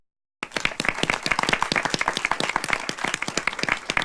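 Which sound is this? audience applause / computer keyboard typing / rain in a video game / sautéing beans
audience applause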